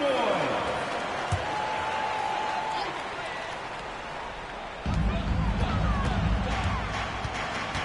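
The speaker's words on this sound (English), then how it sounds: "Please give a big round of applause for your dance team." Crowd noise from an NBA basketball video game, Cavaliers versus Jazz: a steady arena roar with applause for the dance team, swelling louder partway through, under play-by-play commentary.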